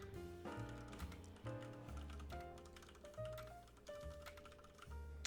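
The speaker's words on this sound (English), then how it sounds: "when you type fast" Fast typing on a Ducky One 2 Doubleshot RGB TKL Pudding Edition mechanical keyboard: a quick, uneven run of light key clicks, very faint, with a low tonal hum beneath.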